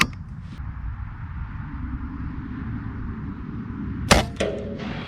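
A Benjamin Gunnar .25 caliber air rifle fires at a target, giving one sharp, fairly close crack followed by a softer second report, set against steady outdoor background noise.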